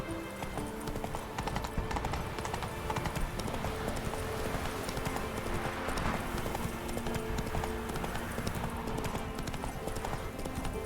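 Hooves of Roach, a horse in The Witcher 3: Wild Hunt, clip-clopping in a steady unbroken rhythm for several seconds under game ambience and music, with no voices.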